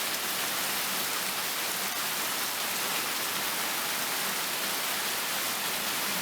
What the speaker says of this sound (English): with new planetary equipment comes what? Yeah, you guessed it, clouds and rain.